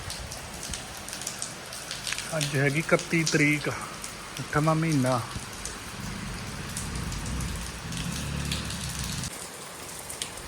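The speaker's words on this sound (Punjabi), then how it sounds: "ਇੰਨਾ ਹੀ ਮੀਂਹ ਪੈ ਰਿਹਾ" Heavy monsoon rain pours down in a dense, continuous hiss of drops on surfaces, loud and steady throughout, while someone speaks briefly over it in the first half.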